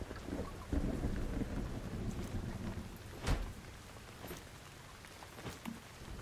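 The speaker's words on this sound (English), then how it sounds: "I don't like that I'm getting rained on." Rain and thunder in the survival video game Once Human: a steady hiss of rainfall with a sharp thunder crack midway and a couple of fainter rumbles, fairly quiet and with no talking over it.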